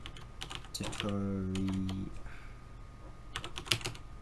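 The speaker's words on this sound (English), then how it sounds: "I'm just getting used to my new keyboard I've got here with my new desktop now." Keys clatter on a new Dell desktop computer keyboard in quick, light clicks, with a brief sustained tone partway through and a faint word spoken nearby.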